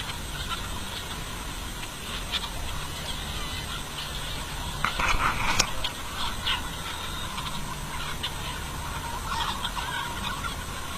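A flock of about 5,000 chickens on an open farm fills the air with a dense, faint chorus of overlapping clucks and calls, steady over background noise with a brief louder burst midway.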